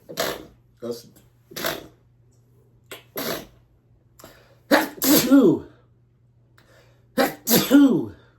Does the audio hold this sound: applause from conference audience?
no